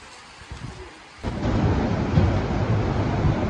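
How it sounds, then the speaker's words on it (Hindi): Heavy rain pours steadily along the Kedarnath trek route in the Himalayas, a dense, close wash of drops that swells suddenly after a quieter opening and then holds loud with low rumbling underneath. "बारिश यहाँ पे हो सकती है, हो ही रही है"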